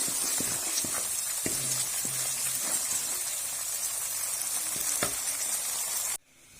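Green garlic sizzling in a pan during cooking, a steady close frying hiss with occasional stirring clinks and scrapes, cutting off abruptly at the end.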